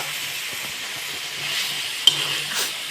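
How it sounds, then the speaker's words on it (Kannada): Brinjal frying in oil in a home kitchen while ragi mudde and sambar are prepared, a steady close hiss of sizzling oil with faint stirring scrapes and one sharp tap, no talking. "ಬದನೆಕಾಯಿ ಉರಿಸ್ತಾ ಇದ್ದಾಳೆ."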